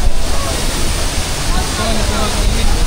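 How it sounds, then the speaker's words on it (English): A steady, close roar of falling water at Sada Waterfall fills the scene, a dense, even rush that never pauses. "I'm here at the waterfall."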